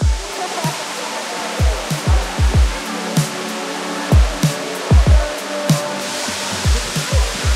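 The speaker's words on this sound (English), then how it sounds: "We just arrived in here in Tumalog waterfall and must say this is the most beautiful waterfall" Tumalog waterfall in Oslob pours with a steady, full broadband rush, broken by irregular dull thumps and knocks close to the microphone.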